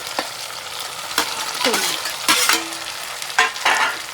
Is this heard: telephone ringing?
no